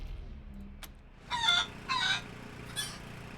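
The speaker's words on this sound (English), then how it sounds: "It then pecks on the ground near your feet, clucking and wheezing to itself." A chicken in the video game Wasteland 3 clucks and wheezes in three short raspy bursts, close and fairly quiet, over a low ambient hum.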